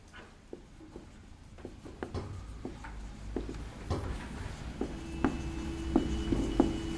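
Pen or chalk scratching during a biology lecture, a series of short scratchy strokes and taps at irregular intervals over a low room hum, with no talk.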